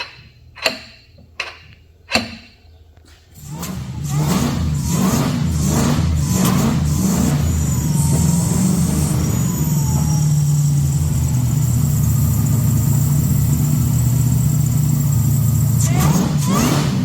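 A car engine fitted with an LSA supercharger on its first start-up, opening with a few sharp bangs, then catching and running with a loud, steady idle that rises into revs under throttle and carries supercharger whine, close by.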